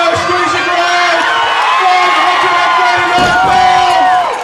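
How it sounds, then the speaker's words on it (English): Crowd cheering and whooping at an IPF powerlifting deadlift meet, steady loud shouting and cheers throughout with a brief heavy thud near the end. "Round of applause for the strongest woman in the world."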